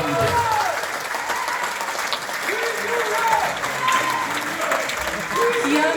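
Sustained applause from a crowd at a Liberty Korea Party members' meeting and special lecture rolls on steadily while someone speaks over it through a microphone.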